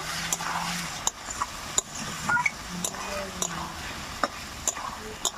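Taro root and snakehead fish curry being stirred and fried in a pan, with a low sizzle under repeated clinks and scrapes of a spatula against the metal, spaced irregularly and close by.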